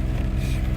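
A 2001 Ford ZX2 engine idles roughly on a cold start with a suspected vacuum leak, a brief close low-pitched rumble with slight unsteady pulsing.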